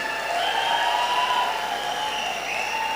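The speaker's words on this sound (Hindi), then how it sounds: "तालियां जोर से बजाइए" An audience at a business seminar claps loudly and continuously, a dense, even wash of applause with no talking over it.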